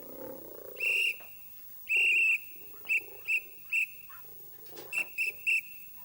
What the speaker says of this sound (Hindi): तो अपन सीटी मार के एक दूसरे से बात करेंगे।